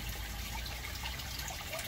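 Water trickles and splashes steadily at a faint level out of the effluent pipe of a radial flow settling tank in an aquaponics fish tank setup, a soft continuous flow with no talking.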